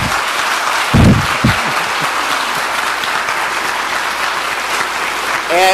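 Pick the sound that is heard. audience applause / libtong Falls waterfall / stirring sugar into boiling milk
audience applause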